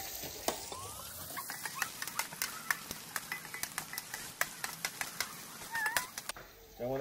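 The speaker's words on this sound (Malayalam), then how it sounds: "നമുക്ക് അതില് സവോള അരിഞ്ഞത് ഇട്ടുകൊടുക്കാം" Chopped onions sauté in hot coconut oil inside a cooker, crackling with a dense run of sharp pops and ticks over a soft sizzle, close up and fairly quiet.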